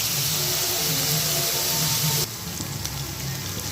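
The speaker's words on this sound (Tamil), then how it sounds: "இப்போ வெங்காயம் நல்லா வதங்கட்டும்." Onions sautéing in a pan for a chicken pepper fry give off a steady, close sizzle and hiss that drops to a quieter simmer partway through.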